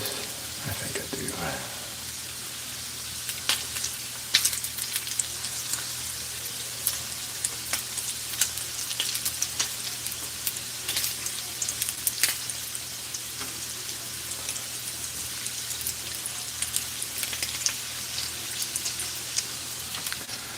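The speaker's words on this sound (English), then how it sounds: "Right now, just frying up some brisket burn-ins." Brisket burnt ends fry in a hot pan, a steady close crackle and sizzle of spitting fat running throughout, with a brief knock near the start.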